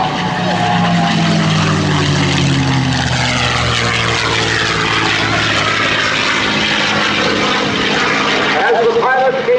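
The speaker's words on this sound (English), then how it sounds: "just close your eyes and enjoy the sound of the B-12 engine" A P-51C Mustang's piston engine roars past at an air show, loud and sustained with a sweeping pitch drop as it passes, while a voice speaks over it.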